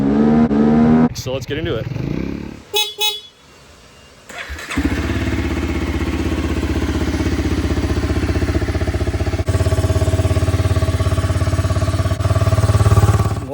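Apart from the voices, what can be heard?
Honda ATC 200X three-wheeler engine running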